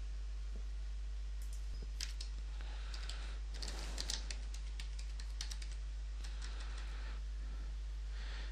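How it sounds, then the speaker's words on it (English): Typing on a computer keyboard to enter survey project details in 12d Model software: soft, irregular key clicks in quick bursts, close but quiet, with no voices. "type in some meaningful information"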